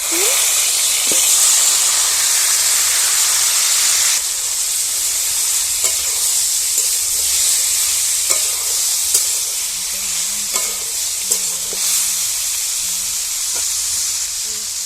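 Hot mustard oil hisses and sizzles loudly and continuously in a pan while a shil kul pickle is made, with occasional faint clicks of stirring over the steady crackle.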